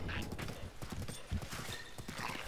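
A horse gallops in the video game Zelda: Breath of the Wild, its hooves clopping in a quick, steady rhythm with a few heavier thuds, moderately loud over quiet game ambience.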